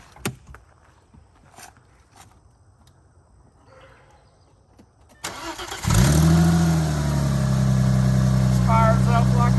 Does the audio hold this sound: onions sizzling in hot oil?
no